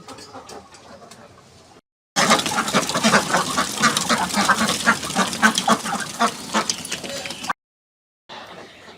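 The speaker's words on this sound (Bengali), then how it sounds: "আমার খামারে হাঁস আছে পঁয়ষট্টিটি" A flock of Khaki Campbell ducks on a farm of about sixty-five birds quacks loudly in a dense, overlapping burst, with quieter stretches of calling before and after.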